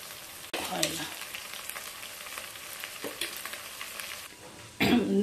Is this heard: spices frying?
yes